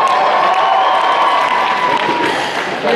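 An audience at a cosplay contest at Polymanga 2014 applauds loudly for a Sucker Punch category entry, with dense, sustained clapping mixed with cheering that stays steady and close throughout.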